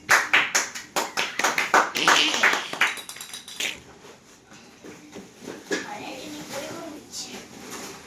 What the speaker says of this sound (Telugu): Claps claps claps.